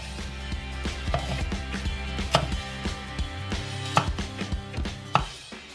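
Bushcraft knife slicing raw potato and cabbage, with repeated crisp crunching cuts in an irregular rhythm, close and clear, no talking.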